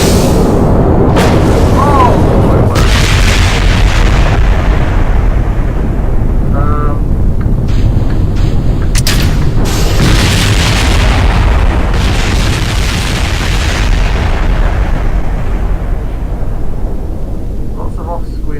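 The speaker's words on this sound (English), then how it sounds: "Lots of off-screen explosions." Rocket explosions in the Kerbal Space Program game, a dense run of loud booms and rumbling bursts through the whole stretch, with a steady roaring blast under a few sharper pops and some game tones.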